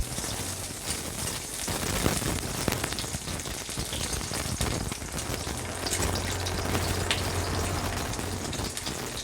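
Garlic frying in hot oil in a wok gives a dense, steady crackling sizzle that holds at an even level from start to finish, close by and without any voices.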